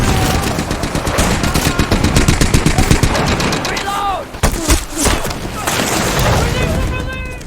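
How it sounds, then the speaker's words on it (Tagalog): Dense rapid rifle and cannon fire crackles continuously with heavier booms mixed in, under a steady din of a battle at Passchendaele; brief tonal whistles cut through near the middle and end. "Ang matinding pag-ulan ng bala at kanyon ay yumanig sa posisyong dinedepensahan ni Michael."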